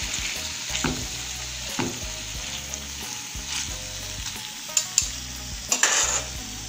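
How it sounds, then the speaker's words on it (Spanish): Onions and chopped pineapple frying in a pan, a continuous close sizzle broken by a few sharp clinks of a utensil against the pan near the end. "aquí ya se doraron un poco las cebollas, ya le vamos a agregar la piña picada que tenemos reservada"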